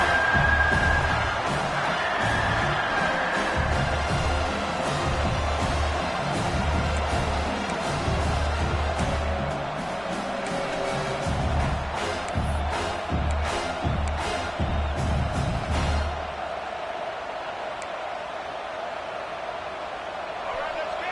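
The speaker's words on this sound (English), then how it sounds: "It's early, but this crowd is fired up. Listen to this noise here." A stadium crowd at an SMU versus South Carolina football game roars in a sustained wash of cheering and whoops under a commentator's voice, then thins out near the end.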